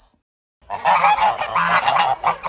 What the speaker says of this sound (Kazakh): Қаңқылдайтын не? қаз.